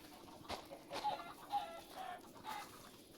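Chickens clucking in a farm-building video game, soft scattered clucks in a short irregular series over faint background ambience, no talking.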